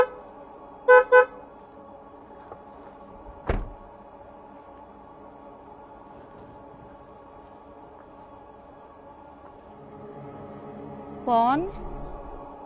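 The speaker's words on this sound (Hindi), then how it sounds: "गाड़ी का हॉर्न दे के इनको बुलाते हैं।" A car horn gives two short honks early on, loud against a quiet night backdrop with a steady insect chirr, then a single sharp knock and a brief rising squeal near the end.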